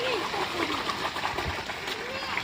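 Water runs and splashes steadily on a farm, a constant gushing flow with bubbling texture, close by, with a person speaking over it.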